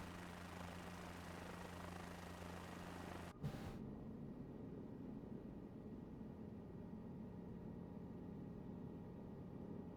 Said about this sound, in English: do you hear the helicopter sound now?